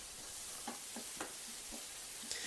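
Onions and potatoes fry in a pan with a steady soft sizzle, broken by a few light clinks and scrapes of stirring at irregular intervals.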